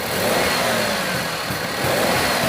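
A Maruti Suzuki Wagon R petrol engine is revved with the accelerator, the steady mid-pitched roar rising and swelling twice, loud and close; no talking.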